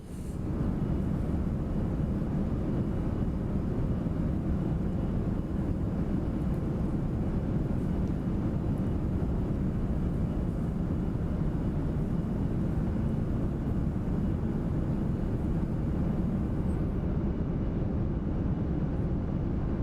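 An Inibuilds A340-300 taking off in Microsoft Flight Simulator 2024 gives a steady, broad jet engine roar that stays loud and unchanging throughout, with no talking over it.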